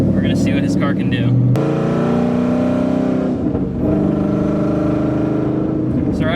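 A 700-horsepower VMP supercharged Ford Mustang GT drives on back roads in Mexico, its engine a loud, steady, close-up drone with a brief dip and rise in pitch, while someone talks over it.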